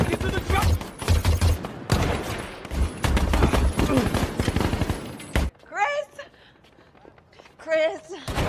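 A gunfight from the film American Sniper: heavy, rapid automatic fire and explosions blast for several seconds under shouting voices, then give way to quieter talk and scattered sounds.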